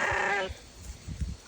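A sheep bleats once on a sheep ranch, a short close wavering cry, followed by quiet rustling and low handling noises.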